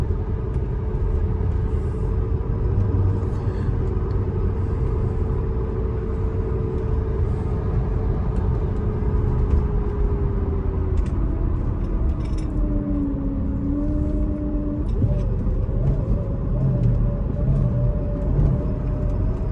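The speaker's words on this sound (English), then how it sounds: "I can't tell if that's motor or transmission, but it's some higher pitched noise that existed before I did the coilover conversion and it's still there" A 2006 Mercedes-Benz SL500 gives off a steady high-pitched whine from the motor or transmission, riding over a continuous low driving rumble. The tone holds constant and dips briefly partway through.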